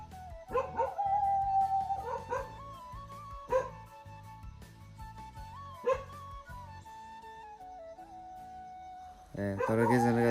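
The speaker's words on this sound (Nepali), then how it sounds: "अब चाहिँ कुकुर किन भुकिरहेछ यार" A dog barks and yelps at night in a series of drawn-out, whining howl-like calls at moderate distance, repeating every couple of seconds before a louder closing sound.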